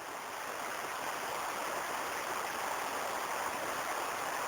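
Water of the Belichka, a clear mountain river fed by springs at the foot of Dautica and Karadžica near the village of Belica, rushes steadily at its mouth as a continuous broadband roar with no pauses and no voices.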